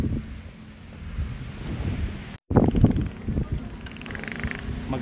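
Steady wind rushes and buffets the microphone, with low rumbling gusts and a brief dropout midway, no talking heard.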